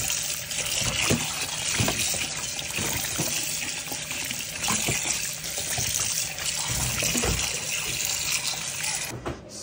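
Tap water runs continuously over freshly cut pork pieces in a sink, a loud, close, steady splashing stream with occasional knocks and sloshes as the meat is handled, and no speech.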